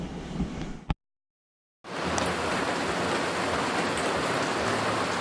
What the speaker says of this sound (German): Es regnet!